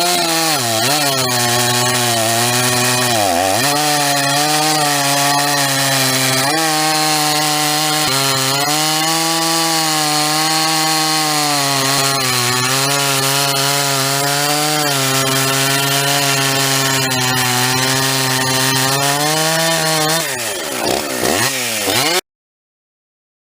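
A Husqvarna chainsaw fitted with a Forester chain cuts through wood, its loud engine holding a steady high whine under load for about twenty seconds, with a few dips in pitch as the bar bites and the saw revs back up.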